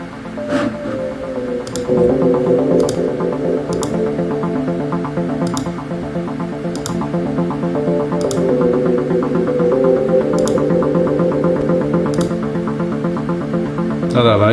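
An electronic music mix in a DAW with reverb applied: loud, sustained synth tones and a dense low-mid texture with regular percussive hits, heard alone with no voice.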